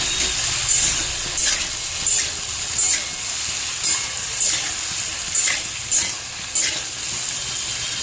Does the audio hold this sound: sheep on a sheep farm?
no